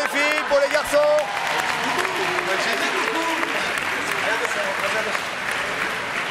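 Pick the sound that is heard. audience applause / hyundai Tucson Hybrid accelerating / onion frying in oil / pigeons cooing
audience applause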